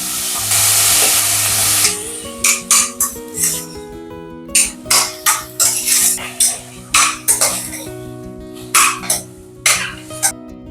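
Ginger, garlic and green peas fry in a hot pan with a steady broadband sizzle, broken by repeated short sharp bursts of spattering or stirring, close and fairly loud, with no talking.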